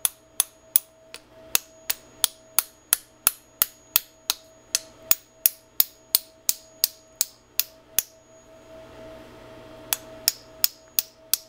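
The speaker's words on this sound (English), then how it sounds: "I'm gonna grab my little toy hammer here and just lovingly, gently" A small hammer taps a set screw into a keyway on a robot arm drive assembly: crisp, evenly spaced metallic taps in a steady series, a short pause, then a few more taps, close and clear.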